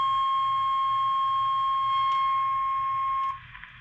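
A steady 1020 hertz test tone plays through a handheld marine radio direction finder: one continuous, loud, pure whine that holds evenly, then cuts off just before the end.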